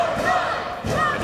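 Arena crowd at a Ring of Honor wrestling match cheering loudly and steadily throughout, a dense roar with swells and faint voices mixed in.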